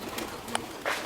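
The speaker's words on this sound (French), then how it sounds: "Oh, regarde les pigeons." Pigeons inside an abandoned sanatorium give a couple of faint, brief coos against a quiet, hissy indoor background.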